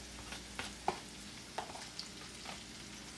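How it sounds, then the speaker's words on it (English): Potatoes and onion fry in a pan with a steady sizzle while a utensil scrapes and stirs with occasional soft clicks, no talking. "And you just keep stirring it till it gets a little, we done been frying it some."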